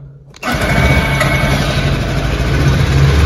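A Peugeot Citystar 125 scooter engine catches abruptly after a short quiet moment, then settles into a steady, close, buzzing idle for the rest of the clip.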